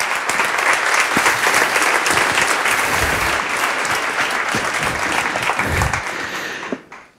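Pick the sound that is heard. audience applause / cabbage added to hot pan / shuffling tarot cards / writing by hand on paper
audience applause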